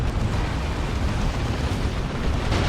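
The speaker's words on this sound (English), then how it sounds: "Oh, rocket run." Rocket run strike in the real-time strategy game Dawn of War 2, a dense continuous rumble of overlapping explosions and blasts, loud and sustained throughout with no talk.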